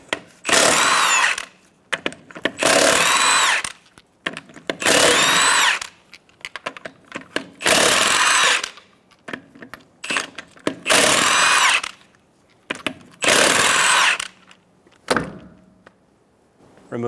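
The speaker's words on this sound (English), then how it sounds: "Using a 22 millimeter socket, remove the 6 lug nuts." Repeated whirring bursts of a power impact tool spinning off the six rear-wheel lug nuts on a 2014-2018 Chevrolet Silverado 1500 with a 22 mm socket, about eight close, loud runs separated by short pauses.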